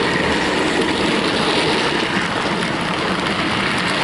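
A Bachmann Fowler 4F model locomotive hauls loaded goods wagons steadily nearby with a continuous broadband rumble and rattling wheels, loud and even throughout, with no voices.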